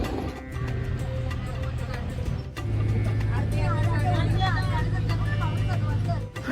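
A vehicle that carries visitors up to a hilltop math hums and rumbles steadily nearby, its low engine drone continuing beneath crowd chatter and voices.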